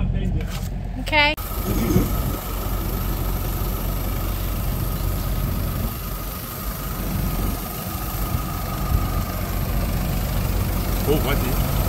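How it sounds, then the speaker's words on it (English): Nissan Navara D40, Spanish-built pickup, whose engine starts and then settles into a steady low idle for the rest of the clip, with brief talk near the start. "So I'm going to start the engine."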